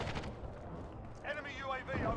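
Heavy, rumbling precision airstrike explosions in Call of Duty Modern Warfare multiplayer roll on continuously as a dense, loud barrage, with a game announcer's voice talking over the later blasts.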